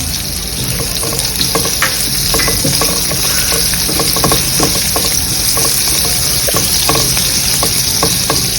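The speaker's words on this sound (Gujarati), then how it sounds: "હવે આપણે કેપ્સિકમ અને કાંદાને થોડી વાર સાતળીશું।" Capsicum and onion sautéing in a pan, with a loud, steady sizzle and frequent quick spatula scrapes and taps, close to the pan and continuous, with no speech.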